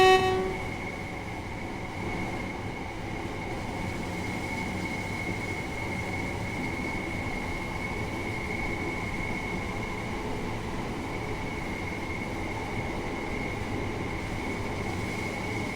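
A Bombardier-built Class 375 electric train runs in Train Sim World 3, with a steady continuous rumble and a sustained motor whine and no break.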